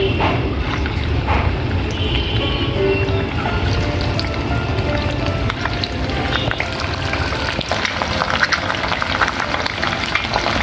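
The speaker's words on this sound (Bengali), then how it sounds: "প্যানে কিছুটা তেল দিয়ে দিলাম প্যানটা গরম হয়ে গেছে একটা করে ডিম দিয়ে দিচ্ছি" Eggs cracked one at a time into hot oil in a heated pan give a loud, dense, continuous crackling sizzle that stays close and steady throughout.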